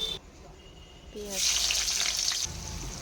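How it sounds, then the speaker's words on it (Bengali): Onion and nigella seeds hit hot oil in a pan and burst into a loud, steady sizzle that fills most of the clip, then drops lower near the end. "পেঁয়াজটা এবারে তেলের উপরে ভাজা করে নেব"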